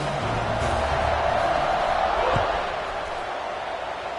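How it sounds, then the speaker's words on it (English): A stadium crowd buzzes in the College Football 26 video game during Oregon at California: a dense, steady roar of cheering that fills the whole stretch and eases slightly toward the end. "Kick it away, and this crowd is buzzing after that last score."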